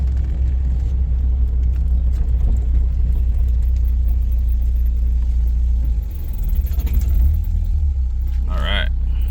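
A Toyota Corolla AE71 converted to AE86 GTS spec drives along with a steady, loud low rumble that dips briefly partway through before picking back up.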